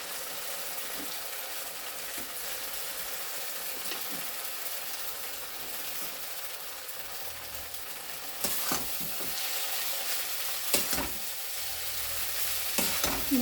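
Boiled noodles tossed into a pan with curry leaves give a faint steady sizzle and soft stirring scrapes, growing louder and busier partway through as the food is added and turned.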